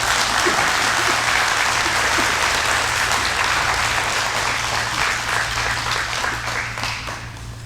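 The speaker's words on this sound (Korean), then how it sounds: "박수로 환영해 주시면 감사합니다." A church congregation applauding to welcome guests at a pastor's installation service, sustained full clapping from many people over a low hum, easing slightly toward the end.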